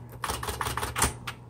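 A 1970s Smith Corona Coronet Electric 12 typewriter types a short burst of about five or six crisp, close keystrikes in quick, slightly uneven rhythm.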